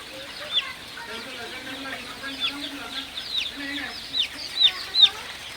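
A crowd of about 1,500 Sonali super hybrid chicks peeps continuously, high thin chirps overlapping, with a few louder close calls toward the end and a faint low hum underneath.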